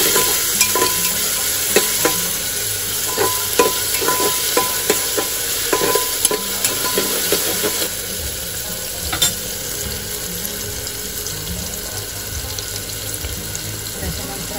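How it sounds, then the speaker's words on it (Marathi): Onion frying in a pan for a quick tiffin vegetable dish, a steady close sizzle with scraping stirs and light clatter of a spoon against the pan, no talking. "कांदा पण लाल असून मस्त फ्राय करायचा आपल्याला।"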